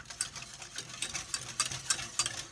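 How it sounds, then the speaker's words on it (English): A whisk beats hollandaise sauce in a bowl, giving quick, soft, rhythmic scraping ticks at close range, steady and moderately quiet with no voices. "I need my whisk. I need me whisk. The whisk is gonna happen at this point."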